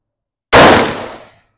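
A single sharp gunshot from a 5.7x28 firearm loaded with AAC FMJ range ammunition, a loud close crack with a short decaying tail, heard alone.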